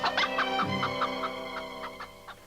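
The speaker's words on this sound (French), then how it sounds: "Regardez, Seigneur Gregorio, c'était pas un voleur, c'était qu'un petit poulet" A small chicken clucks repeatedly in a steady, close run of short nasal calls, with no talking over it.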